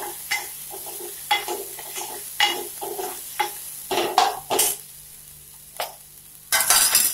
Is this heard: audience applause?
no